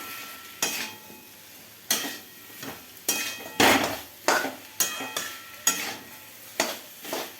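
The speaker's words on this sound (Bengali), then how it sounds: "পোস্তটি দিয়ে আমি বেশ আর একটুখানি নাড়াচাড়া করে নিলাম সমস্ত কুমড়োটি।" Pumpkin with poppy seed paste stirred in a pan over a medium gas flame, about a dozen distinct close scraping strokes in an irregular rhythm, with a faint sizzle between them and no talk.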